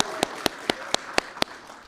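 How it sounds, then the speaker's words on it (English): A few slow, evenly spaced single claps, about four per second, ring out sharply and alone in a quiet room during a public event with the governor, suggesting a sparse audience response rather than full applause. "Let's give him two rounds of applause."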